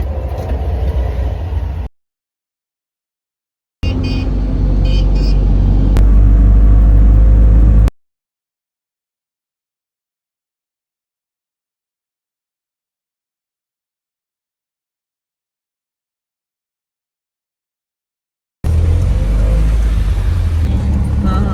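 A vehicle drives along a road in India with a steady, loud, rumbling drone heard in separate stretches broken by silent gaps.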